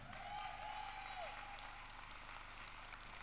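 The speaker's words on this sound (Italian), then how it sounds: "Un applauso." Steady applause from a festival audience for a band fills the space, dense clapping continuing throughout at a constant level.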